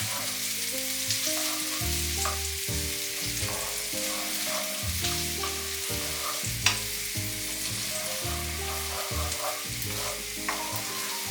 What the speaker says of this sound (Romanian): La foc nu foarte tare, că nu vrem să o prăjim prea tare, trebuie doar să o topim un pic.